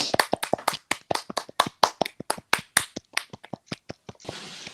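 A steady run of about two dozen sharp hand claps at a political rally, close and fairly quick with slightly uneven spacing, ending in a brief burst of hiss.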